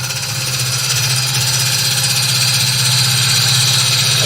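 A wood lathe spins steadily at just under 1,000 RPM, giving a loud, constant motor hum with a rhythmic whirring drone and no talk.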